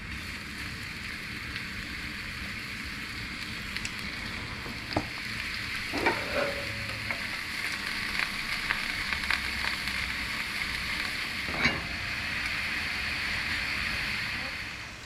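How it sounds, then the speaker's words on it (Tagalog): Leftover kafta sautés in a pan with a steady, close sizzle, and occasional clinks and stirring scrapes sound over the continuous frying. "So, igigisa ko siya."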